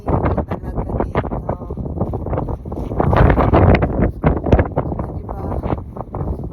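Strong gusty wind buffeting the microphone outdoors, a steady loud roar with rushing surges throughout.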